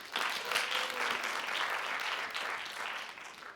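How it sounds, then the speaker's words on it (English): Audience applause at a winter jazz ensemble concert, steady and sustained clapping from a crowd heard alone for several seconds at moderate distance. "So big round of applause for that."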